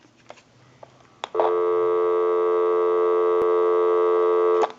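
A steady, loud electronic telephone busy signal drones for several seconds after a few clicks and button presses on an AT&T 5450 cordless telephone, close and continuous.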